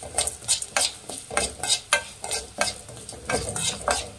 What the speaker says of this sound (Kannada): ಲೋ ಫ್ಲೇಮಲ್ಲಿ ಇಟ್ಟೆ ಫ್ರೈ ಮಾಡಬೇಕು